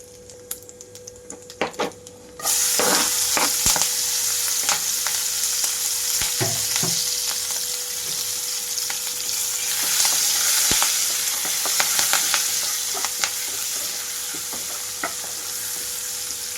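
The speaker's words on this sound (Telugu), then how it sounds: "ఇక్కడ పచ్చిశనగపప్పు అంతా కలర్ మారేటప్పుడే ఇందులోకి కట్ చేసి పెట్టుకున్న ఉల్లిపాయలు కూడా వేసేసుకుంటున్నాను" Chopped onions drop into hot oil with chana dal in a pan, and a sudden loud sizzle takes over after a quiet start, holding steady with scattered clicks and stirring scrapes close by.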